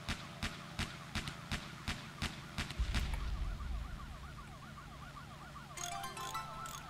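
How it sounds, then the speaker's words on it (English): Police sirens wail in the background of the video game Airheart, a repeated rising-falling tone under clicking gameplay effects and a low rumble, moderately loud. "Hear the little sirens in the background. That's, I believe, the police."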